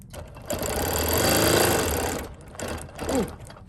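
A longarm quilting machine stitches binding onto a quilt with a rapid, steady mechanical chatter that swells in the middle, pauses briefly, then gives a couple of shorter stitching bursts, close up.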